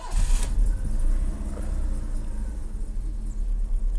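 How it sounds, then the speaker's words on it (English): A 1986 BMW E30 engine starts up and settles into a steady, close idle. The low rumble is fairly loud and continuous after the start. "let's see what happens when I fire it up"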